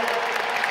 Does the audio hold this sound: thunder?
no